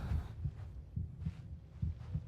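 Steady paired heartbeat thuds pulse in a Genshin Impact quest scene, low and deep, repeating in an even lub-dub rhythm about once a second with no voices.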